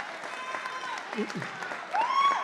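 An audience breaks into applause at a year-end celebration, a fairly quiet, continuous patter of clapping with brief voices and a short swell near the end.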